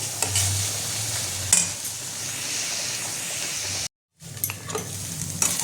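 Soya bean bhurji with turmeric, chilli powder and garam masala frying in a pan: a continuous close sizzle with repeated scraping stir strokes, a momentary dropout to silence, then the sizzling and stirring resume.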